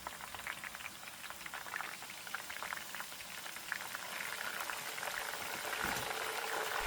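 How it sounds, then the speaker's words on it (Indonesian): Cassava chips frying in hot oil, being turned now and then to keep the oil temperature steady, give a dense, steady bubbling sizzle that swells slightly louder toward the end, with no voices. "dalam minyak yang panas sambil sesekali dibolak-balik untuk menjaga suhu minyak tetap stabil panasnya"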